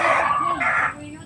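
A rooster crows nearby in a mountain setting, one drawn-out two-part call lasting about a second, loud and close.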